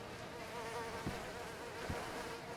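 Bees hum around a hive in a video game, a steady, dense buzzing of many insects close by, continuous and even for the whole stretch with no talking.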